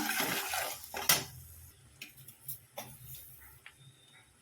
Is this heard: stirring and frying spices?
yes